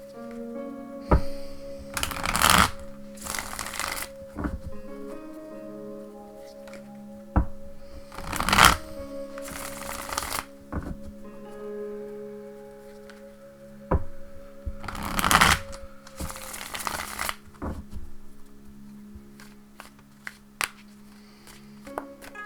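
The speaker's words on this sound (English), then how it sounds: "Alright, let's cut the deck." A Thelema tarot deck is shuffled by hand in repeated riffling bursts, close and crisp, with quieter card handling between them over a faint steady hum.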